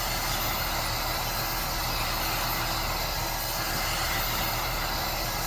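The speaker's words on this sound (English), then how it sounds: "I don't use a torch, I use an air gun," A hot air gun warms a Stihl chainsaw casing, producing a loud, steady, broadband blowing roar that holds unchanged throughout without voices.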